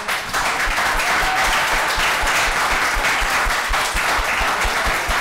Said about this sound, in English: Could you please join me in giving a round of applause to our panelists?